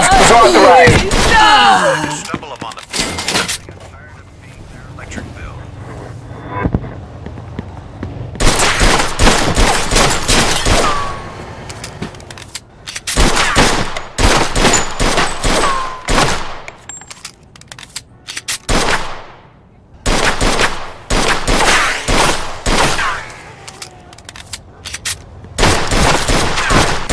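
Automatic weapon fire from a Mafia II shootout crackles in repeated loud bursts of rapid shots, separated by short pauses, across most of the clip, with some voices in the mix.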